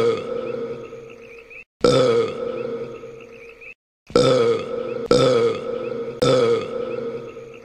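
A series of loud, drawn-out burps, about five in a row with short silent gaps between them, each a deep, croaky, close-up belch.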